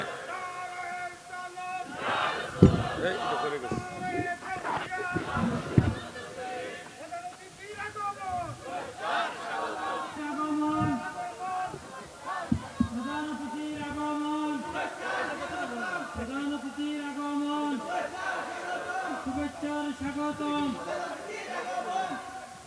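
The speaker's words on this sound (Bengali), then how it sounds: "তাকবীর, জোরে জোরে" A large crowd at a religious gathering loudly chants takbir (Allahu Akbar) in repeated, drawn-out unison calls that swell and fade in a steady rhythm over several rounds.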